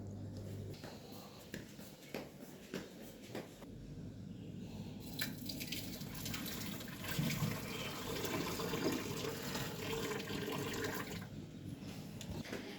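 Water pours and splashes into a drinking container for pigeons nearby, a continuous gurgling stream after a few soft clunks and taps.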